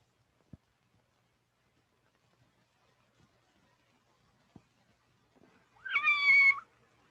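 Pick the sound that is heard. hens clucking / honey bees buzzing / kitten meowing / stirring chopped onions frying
kitten meowing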